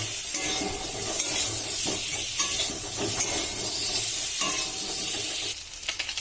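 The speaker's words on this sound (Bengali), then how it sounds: "কড়াইতে সামান্য পরিমাণ তেল দিয়ে আলুগুলোকে ভালো করে ভেজে নেব।" Potatoes fry in a little oil in a wok with a loud, continuous sizzle and hiss, broken by scraping stirs, and no voices.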